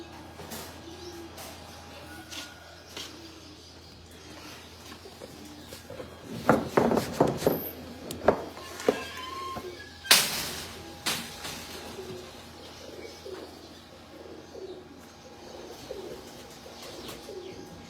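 Breeder pigeons kept by a Pakistani pigeon fancier coo softly in a quiet outdoor setting, with scattered chirps, a burst of wing flutters and handling noises midway, and faint footsteps around.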